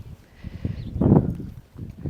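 Show horses at a horse centre in Dutton, Montana walk with irregular hoof clops on the ground, mixed with a rustling burst and a faint high whinny-like tone in the background.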